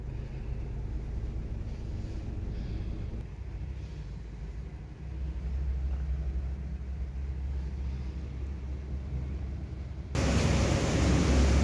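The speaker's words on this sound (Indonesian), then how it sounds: "Suasana di Palembang masih hujan nih." Dull, steady hiss of rain on a 2023 Toyota Agya from inside, in Palembang, with low cabin rumble; the noise swells louder and brighter near the end.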